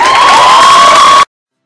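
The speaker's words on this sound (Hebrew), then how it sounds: "קבלו במחיאות כפיים את זאב רובי!" School audience at a Purim show in Acre cheering loudly, with high shouting voices and applause in a dense crowd roar that cuts off abruptly after about a second.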